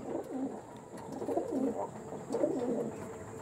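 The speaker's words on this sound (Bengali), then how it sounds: "আরেকটা গোলা ব্রিডার পায়রা দেখাচ্ছি চেন্নাইয়ের" A Golah breeder pigeon from Chennai coos in repeated soft, throaty phrases, close to the microphone and steady in volume, with no talking.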